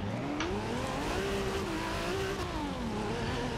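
A Toyota Supra engine in the racing game Forza Horizon 2 accelerates hard, revving up through gears with a steady, loud rising drone and brief dips at shifts, heard alone without talk.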